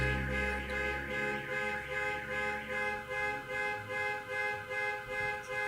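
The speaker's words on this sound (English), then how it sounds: "Sorry for the horn honking outside." A car horn outside in Jamaica Plain, Boston sounds in a steady, repeating pulsing pattern, a sustained tonal blare recurring about every half second, moderately distant.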